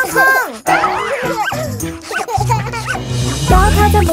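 Woof-woof barks of a dog within a bright Thai children's song, repeated in quick bouncy rhythm alongside singing voices and music, with the barking likely sung or imitated by a voice.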